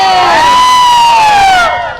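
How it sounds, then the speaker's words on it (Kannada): A loud, sustained crowd cheer with a strong high whooping voice rising and holding, greeting Yash and Radhika at a public event, tapering off at the end. "ನಮ್ಮ ಯಶ್ ಅವರಿಗೆ, ನಮ್ಮ ರಾಧಿಕಾ ಅವರಿಗೆ ಒಂದ್ಸರಿ ಬರ್ಲಿ ಜೋರಾದ ಚಪ್ಪಾಳೆ"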